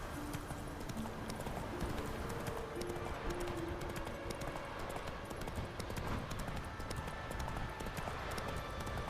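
Rhythmic clip-clop of horse hooves trotting steadily and fairly close in the video game The Witcher 3, with a dense ambient wash underneath and no talking.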